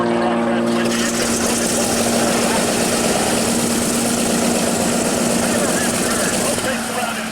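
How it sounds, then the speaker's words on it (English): A 450-horsepower aerobatic airplane engine roars steadily at an airshow, loud and continuous with a droning propeller tone that holds for the whole stretch. "450 horsepower transmission engine."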